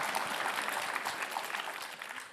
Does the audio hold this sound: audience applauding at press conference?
yes